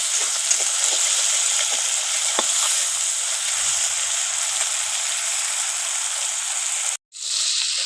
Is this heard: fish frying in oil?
yes